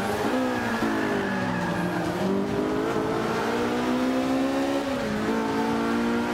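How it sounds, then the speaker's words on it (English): Race car engine in Forza Motorsport 5 accelerating hard on the Spa circuit in Belgium, a loud continuous rising whine that climbs through gear shifts with tire squeal underneath, no voices. "Yeah, man, this thing accelerates quickly."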